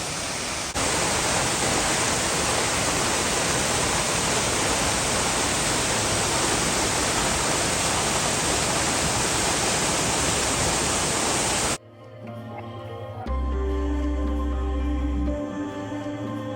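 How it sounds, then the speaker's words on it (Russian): A double-cascade waterfall roars close by in a dense, steady rush for about twelve seconds before cutting abruptly to other quieter sounds. "Но я прям у водопада."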